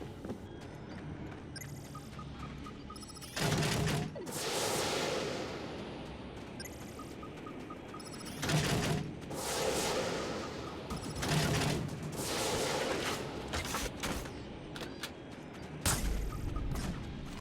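Shotgun blasts ring out in a video game battle, several loud separate bursts spaced unevenly over a constant bed of game noise.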